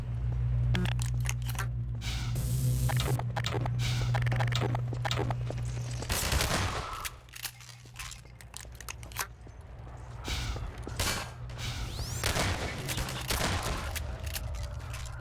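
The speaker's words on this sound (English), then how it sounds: "Just kind of sitting back and shooting enemies now." Bursts of video game gunfire crackle across a custom strategy map as enemies are shot, rapid volleys and single shots scattered over steady in-game background noise, loud and close.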